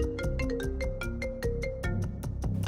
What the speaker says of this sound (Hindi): फोन आ रहा है तुम्हारा, सुन लो।